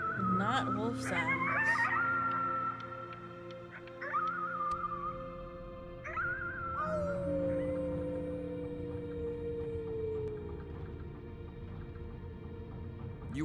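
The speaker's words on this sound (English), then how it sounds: "You howled at the moon at the top of your lungs." A child's howling at the moon in the video game Before Your Eyes: rising, wavering wails with sustained tonal cries and falling slides over a music-like bed, under faint talk.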